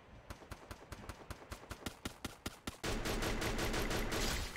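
Enemy gunfire in the mobile battle-royale game Free Fire: a run of evenly spaced single shots, then a dense, continuous rapid-fire burst, loud and with no talking.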